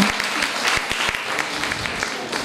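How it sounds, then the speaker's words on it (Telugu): Audience at a village nutrition-campaign event clapping for booth-level election officers, giving a brief burst of dense, steady applause from a crowd. "బిఎల్ఓస్ అందరికీ ఒకసారి చప్పట్లు కొట్టండి"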